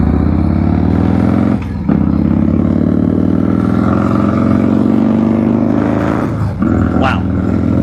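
Engine of a 1993 Harley-Davidson Softail running loud and close during a slow-speed riding test, a steady low rumble with brief dips and surges as the throttle is eased.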